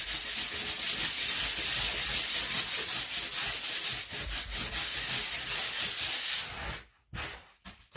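Steady, gritty rubbing of scrap sandpaper on a walnut and oak chopping board, continuous back-and-forth scraping that stops abruptly near the end, followed by a few brief strokes.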